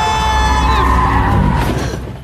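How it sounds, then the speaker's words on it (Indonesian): A car in an Indian film braking suddenly, a loud drawn-out tire squeal and skid over an engine roar that fades toward the end. "Simran pun begitu sangat terkejut dan mengerem mobilnya secara ngadadak"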